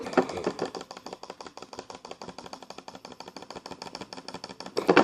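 Rapid jitter clicking on a computer mouse, a dense, steady stream of sharp, close ticks, roughly eight to ten per second, with a brief louder burst at the start and end.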